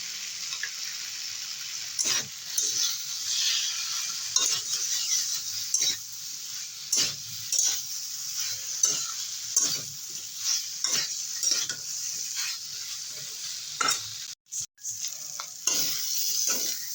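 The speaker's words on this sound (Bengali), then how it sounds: "আদা জিরে বাটা দিয়ে দু মিনিট কষিয়ে নিলাম" Ginger and cumin paste sautéing over low flame in a pan while a pabda fish curry is made, with steady soft sizzling and repeated scraping strokes of a spatula, no voices.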